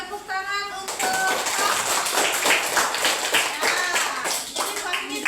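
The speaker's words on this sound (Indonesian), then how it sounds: "tepuk tangan untuk" A classroom of students breaks into applause, a dense patter of clapping that swells after a brief pause and fades near the end, with voices and bird-like chirps mixed in.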